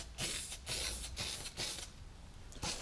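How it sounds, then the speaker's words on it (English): Rust-Oleum black spray paint hisses in short repeated bursts onto bare bumper metal, about five separate sprays with brief pauses between them, close and steady. "we're just gonna take some Rust-Oleum and just kind of cover it with black paint"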